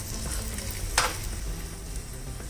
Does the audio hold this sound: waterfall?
no